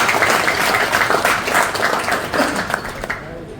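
An audience at an inauguration ceremony applauds Brigadier Mojib and his colleagues. Dense clapping from a crowd sounds fairly loud and sustained, then thins out by the end, with speech mixed in.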